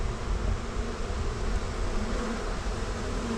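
Honey bees buzz around a hive box in a dense, steady, close drone from many insects, with no voices.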